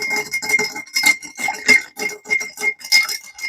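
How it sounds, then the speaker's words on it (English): A spoon stirring a cocktail in a glass, with close, rhythmic tinkling clinks of ice and metal repeating steadily for several seconds. "Give that a nice stir."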